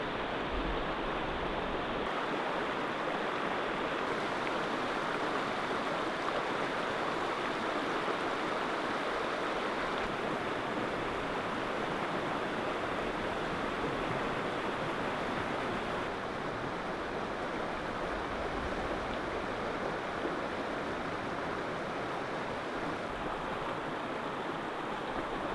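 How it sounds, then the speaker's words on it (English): Continuous broad rush of a river flowing beside a campsite in spring, steady and close throughout with no pauses and no talking. "The river's just there."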